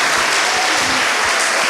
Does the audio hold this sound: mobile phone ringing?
no